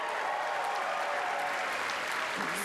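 Awards-ceremony audience applauds in a large ballroom, a dense, steady wash of clapping at moderate distance, continuous through the short stretch.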